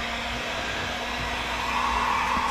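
A heat gun warms the headlight of a BMW E92 with a continuous, close, hair-dryer-like whoosh that stays even and unbroken throughout.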